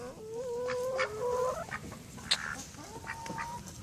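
Chickens cluck and squawk in a farm coop, several birds calling in overlapping bursts with one sharp high cry midway, fairly close and steady throughout with no talk.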